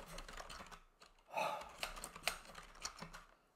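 Fingers tap on an ergonomic computer keyboard in a small room, a quiet run of uneven key clicks with a slightly louder clatter near the middle.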